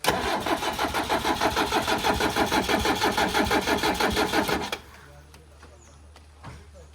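A 1999 HM Trekker's diesel engine cold starts and runs with a loud, steady rhythmic clatter, close by, then cuts off abruptly, leaving a quiet background with faint noises.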